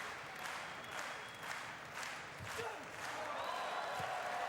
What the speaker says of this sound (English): a slow hand clap, by the way, in Germany doesn't mean the same as it does over in England